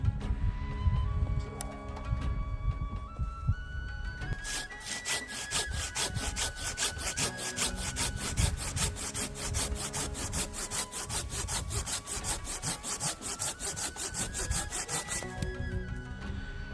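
A hand saw rasps steadily through a 9.5 cm apple wood branch in fast, rhythmic back-and-forth strokes, close and continuous, speeding up in the middle before slowing near the end.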